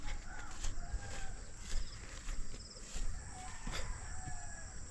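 Ducks and other fowl on a farm call out intermittently at a moderate distance, with scattered squawks and clucks over an outdoor background hum.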